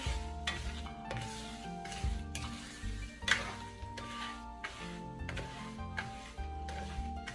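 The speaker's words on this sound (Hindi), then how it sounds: "चमचे को हम चलाते रहेंगे।" A spoon stirs jaggery syrup for sweet gur rice over a low flame, giving steady scraping and soft sizzling at close range with repeated stroke-like bursts over a constant tonal background.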